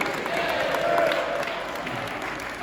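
Guests at a Hindu wedding ceremony in Dehradun, Uttarakhand, break into applause, a continuous wash of many hands clapping at moderate loudness with a faint voice or tone drifting through it.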